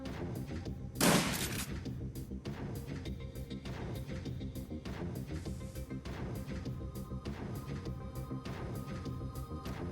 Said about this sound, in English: Come and stand right here and start shooting at this bastard.